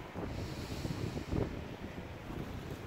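The river Yerre flowing under an old bridge gives a faint, continuous rushing wash, partly blurred by wind buffeting on the microphone, with no voices.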